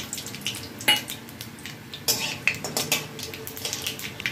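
Black cumin and dried red chillies crackle in hot oil in a pan, a busy sizzle broken by sharp clinks and scrapes of a utensil stirring.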